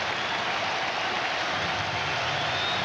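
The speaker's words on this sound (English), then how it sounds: "And the fans still on their feet and still applauding." Baseball fans on their feet applauding in the stadium during a Chicago White Sox versus Milwaukee Brewers game, a steady distant wash of clapping without a break.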